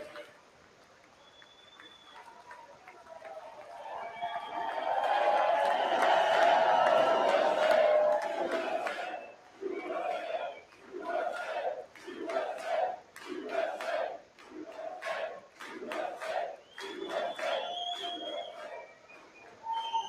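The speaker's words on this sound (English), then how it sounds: "At least everyone's clapping for that." A large audience in a legislative chamber at a State of the Union address breaks into loud cheering and shouting that swells and holds, then settles into rhythmic clapping bursts with talk over it.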